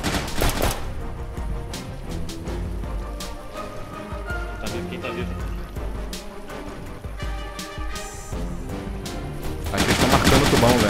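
Rapid bursts of video game gunfire in Intruder crackle and pop in quick succession, growing denser toward the end, with a voice occasionally speaking underneath.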